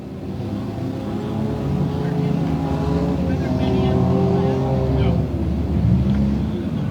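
The number 44 stock car roars down the front stretch in an enduro race, its engine a loud, continuous drone with other cars mixed in and voices underneath.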